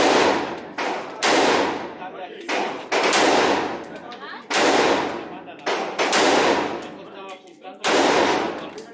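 Suppressed gunshots ring out at a gun range, about seven loud, close cracks with short reverberant tails, spaced roughly one second apart in a steady rhythm.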